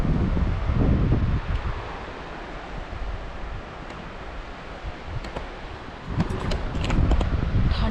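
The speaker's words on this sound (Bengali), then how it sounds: "ভীষণ সুন্দর ঠান্ডা হাওয়া" Cold wind sweeping across the beach at a resort in Mandarmani, a steady loud rush buffeting the microphone with faint surf beneath, swelling at the start and end.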